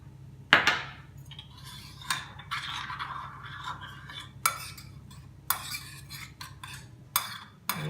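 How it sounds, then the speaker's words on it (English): A spoon stirs and scrapes ingredients in a bowl for mango bruschetta, making irregular clinks and scraping taps against the side at an uneven pace, close and fairly quiet. "Mix it well"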